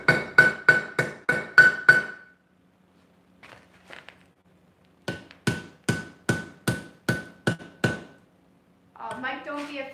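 A blacksmith's hammer strikes chain on an anvil during forge welding, sounding as two quick bursts of about six to eight sharp, ringing blows each. A few light taps and a short voice come between the bursts.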